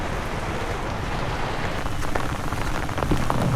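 Heavy rain pours steadily onto metal sheet roofing and rubber, a loud, constant hiss with a few sharper drips near the end.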